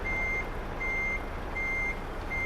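Truck reversing alarm in the Euro Truck Simulator 2 driving game, a steady series of long electronic beeps repeating at even intervals over a constant engine drone.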